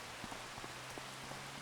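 Steady rain patters on surfaces outdoors in Geisel, Austria, in September, a dense constant hiss with scattered soft drops and no voices.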